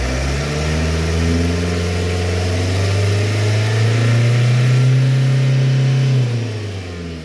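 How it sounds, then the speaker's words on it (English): A Vauxhall Vivaro / Renault Trafic van with a MAF sensor fault has its engine revved up and held, a loud steady drone that rises and sustains, then falls back toward idle, close by with no talking. "try and rev this up while we look at this screen"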